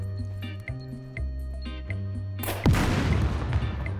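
Gunshots in the survival video game SCUM, a loud boom followed by a rumbling, crackling tail, preceded by tonal game sounds and clicks.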